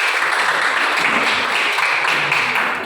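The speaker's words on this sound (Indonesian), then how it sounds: "Tepuk tangan untuk Info" Classmates applaud a group after its discussion presentation in a classroom. The clapping is close, loud and busy, continuing steadily for a few seconds before easing slightly at the end.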